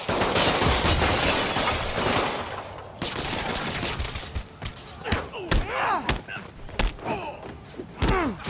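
Henchmen open fire in Marvel's Spider-Man on PS4, a dense loud volley of gunshots and impacts at first, then scattered thuds, shots and fight noises with voices shouting.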